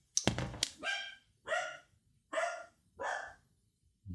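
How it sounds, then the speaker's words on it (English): Poppy, a pet dog, barks five times in a steady rhythm, each bark sharp and fairly close, with short quiet gaps between them. "Madam Poppy is barking her head off."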